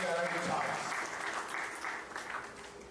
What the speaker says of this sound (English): Give a big round of applause for the self for making the right choice.